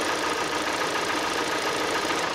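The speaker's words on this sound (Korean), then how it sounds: "이 차 같은 경우에는 엔진 소리를 한번 집중해서 들어볼게요" A Hyundai Sonata with a Nu engine idles steadily under the open hood, a smooth, quiet, even hum heard close up with no talking.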